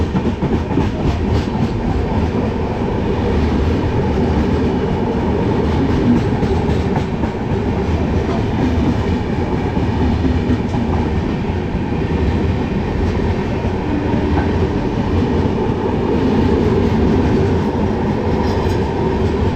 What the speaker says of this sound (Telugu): SMVT Danapur super fast express.